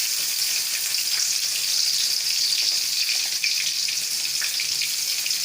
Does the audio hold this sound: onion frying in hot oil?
yes